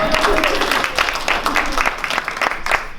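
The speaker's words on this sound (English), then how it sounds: "Give yourselves a round of applause." Applause from a seated audience at a talk about food, a steady wash of many hands clapping at moderate loudness throughout, with faint voices mixed in.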